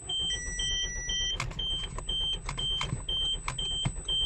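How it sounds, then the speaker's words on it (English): An Audi failing to start while stuck in safe mode: dashboard warning chimes and electronic beeps repeat with short clicks and whirs, close and fairly loud, and no engine catches. "So if I try to start the car"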